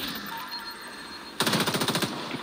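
Machine gun fire rattles in The Division 2 video game, a sudden loud rapid burst of evenly spaced shots cutting in after a stretch of busy game ambience.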